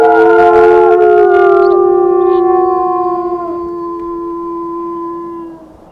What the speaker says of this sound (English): give it a howl